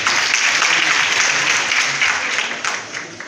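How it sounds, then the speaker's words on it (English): An audience at a college graduation ceremony at Government College Funtua claps loudly in a thick, sustained round of applause that gradually fades toward the end. "Round of applause for him, please."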